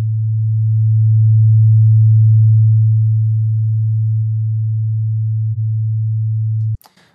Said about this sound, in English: So I'll play the sine wave back. You can see right here that it will be at 110 hertz.